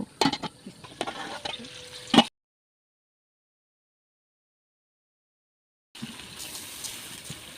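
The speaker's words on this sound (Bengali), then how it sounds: "এবার মিশ্রণে কাটা আলু এবং গাজর দিয়ে আরও কষিয়ে নিব" Chopped potatoes and carrots sautéed in a spice mixture in a pan, sizzling with scraping stirs, broken by a long silent gap before the frying resumes.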